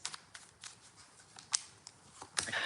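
Tarot cards are shuffled in soft, crisp riffles and taps, quiet and close, arriving in irregular bursts with no talk over them.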